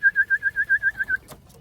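Racing pigeon coming in to the home loft, giving a series of about eight evenly spaced, fairly loud tonal coos close by, followed by a brief rustle and quiet.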